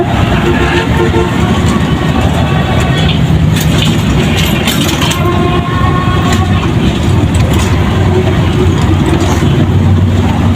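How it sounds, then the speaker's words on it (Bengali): A vehicle engine running loudly and continuously up close, a dense rumbling drone with mechanical rattles layered over it throughout, no talking. "তবে ইঞ্জিন কিন্তু চলছে অনেক"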